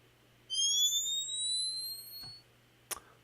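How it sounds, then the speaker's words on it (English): A bomb fuse in a 2D platformer video game: a quiet electronic whistle rises steadily in pitch for about two seconds, followed by a couple of faint clicks. "When you drop them, it does not immediately blow up. It gives you about a second to get away from them, and it plays this fuse sound"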